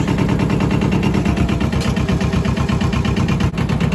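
A Yanmar 2210 compact tractor's diesel engine runs throttled up, loud and close, with a steady rapid chugging pulse throughout and no talking.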